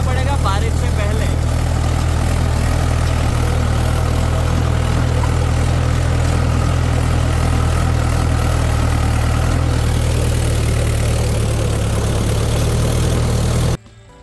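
A tractor with a rotavator cultivating wet field soil runs loud and constant, a heavy low engine drone that holds steady close by before cutting off abruptly near the end.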